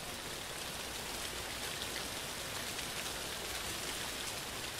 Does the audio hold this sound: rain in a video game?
yes